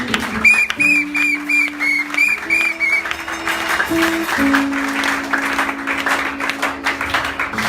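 Applause from a church congregation at an ordination service, sustained clapping throughout with a whistle-like tone above, and steady sustained organ or keyboard notes in the background.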